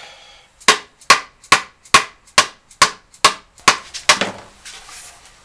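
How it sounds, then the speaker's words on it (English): A dead blow hammer tapping a piece of plywood into a narrow slot, nine sharp, evenly spaced wooden knocks close by, slowing slightly toward the end, with no talk. "Let's try the dead blow here."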